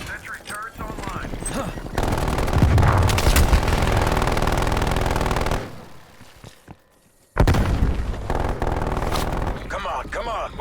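Sentry turrets in a video game open fire in sustained machine-gun bursts, dense and loud, broken by a brief near-silent gap before the firing resumes with game sounds.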